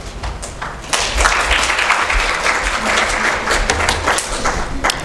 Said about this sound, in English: Thank you so much for your applause before my presentation.